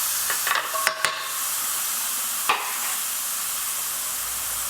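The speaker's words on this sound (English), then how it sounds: "Then I've got garlic and ginger paste. You just need about a teaspoon of garlic and ginger paste. Just want it to brown," Garlic and ginger paste frying in a pan for a restaurant-style prawn dhansak, a steady bright sizzle with a few clinks and scrapes near the start and one more partway through.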